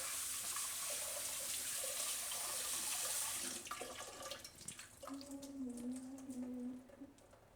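Cold water runs from a tap over boiled raw papaya in a kitchen sink, a steady close splashing stream that fades after a few seconds into softer trickles and dripping.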